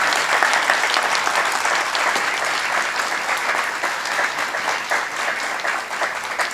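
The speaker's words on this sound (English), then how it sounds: "if you can help me give them a round of applause" Sustained applause from a sizable crowd at a graduation ceremony, steady and even throughout with no voices rising above it.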